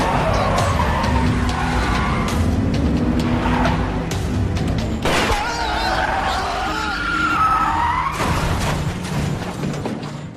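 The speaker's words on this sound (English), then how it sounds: "A car chase ensues until their cars collide." Cars in a dramatic film chase screech and skid, with loud, continuous engine roar and tire squeals building over several seconds and sharp impacts near the end suggesting a collision.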